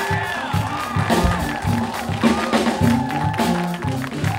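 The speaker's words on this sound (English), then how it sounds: "Ladies and gentlemen, a big round of applause for Genesis Cabug." A studio crowd claps and cheers to welcome a guest, lively and close, with whoops over the clapping and a steady rhythmic beat underneath.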